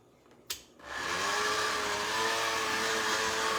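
A cordless Pampered Chef kitchen appliance clicks on, and its motor winds up into a loud, steady, high whir that runs without a break.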